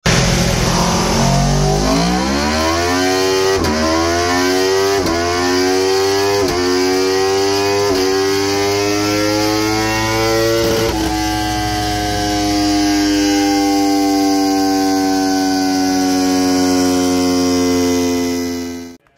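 An Aprilia RSV4 1100 Factory motorcycle with its standard exhaust runs on a dyno, its engine climbing through the gears in a long, loud rising wail with brief shift breaks, then holding high revs before cutting off abruptly.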